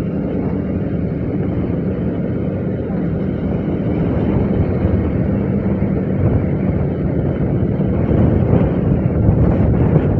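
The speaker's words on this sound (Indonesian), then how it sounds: "Anginnya kenceng amat anjir, seriusan." Strong wind buffets the rider during a motorcycle ride. A continuous, loud, low rumbling roar fills the whole stretch without letting up.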